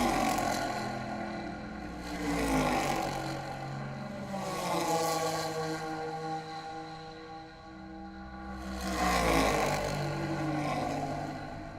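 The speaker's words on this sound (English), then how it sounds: "the great variety of exhaust notes that you hear" Vintage race cars at Road America during a SpeedTour race group, engines passing in waves, exhaust notes rising and fading as cars go by at a distance, with a louder pass near the end.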